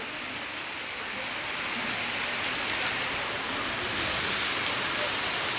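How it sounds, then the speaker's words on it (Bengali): Rain falling steadily on surfaces outdoors, a dense, even hiss that holds at a constant, fairly loud level throughout with no talk over it. "বৃষ্টি হচ্ছে"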